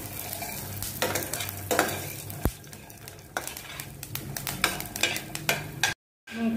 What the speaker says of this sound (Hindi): और इसी में डाल दूंगी कड़ी पत्ता, इसी के साथ भुन जाएगा ये अच्छे से और जलेगा भी नहीं।